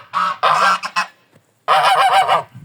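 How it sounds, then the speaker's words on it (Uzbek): Two large geese honk inside a poultry house, loud, nasal calls close by, first in a few quick bursts, then a pause, then a longer run of repeated honks. "Mana bu yerda tovuqxonada ikkitagina g'oz qolibdi."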